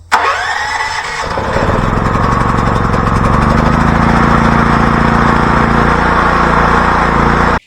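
A generator engine cranks on its starter with the choke on and catches almost immediately, settling into a loud, steady, close running rattle that continues to the end.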